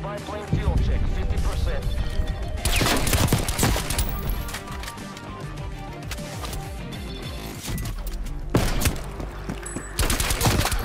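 Rapid gunfire from the video game Call of Duty: Black Ops Cold War, dense bursts of shots and impacts running throughout at steady loudness, with game music and effects beneath and excited players talking over it.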